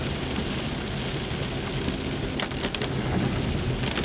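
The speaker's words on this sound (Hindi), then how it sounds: "ओह, कंटिन्यू बारिश हो रही है भाई, कल से पूरी रात हुई है।" Continuous heavy rain pours steadily on the Delhi-Manali highway in a hilly area, a dense unbroken hiss with occasional sharper drops and no talk.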